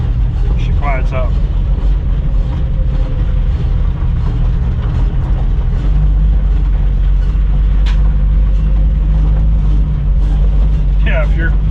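A 1965 Ford Mustang restomod on the move, its loud low engine and road rumble constant throughout, with short squeaks from a noisy spring rubbing a brake drum cutting through now and then.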